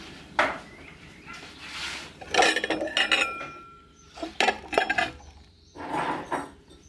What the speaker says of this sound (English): Can you go and get the plates, please, so I can dish up?